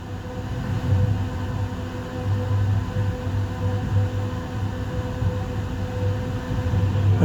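EXO commuter train in Montreal winter, heard from the rear cab while running: a steady, loud low rumble and hum of motors and wheels on rail, continuous with no voices.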